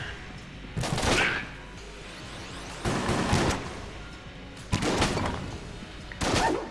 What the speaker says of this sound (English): The regular shotgun takes quite a while to reload.